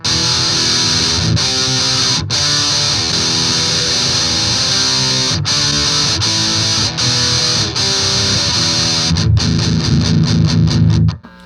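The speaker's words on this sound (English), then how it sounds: "this is with the distortion down all the way at 0" Electric guitar through a DOD Grunge distortion pedal, with distortion at 0, into a Crate 15-watt amp plays sustained, buzzing chords with brief cuts between them, loud and dense, ending in rapid choppy strums.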